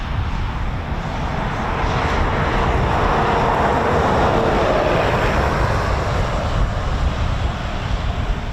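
Eurofighter Typhoon FGR4 jets at RAF Coningsby roar continuously. The engine noise is loud, broadband and steady, and no voices can be heard.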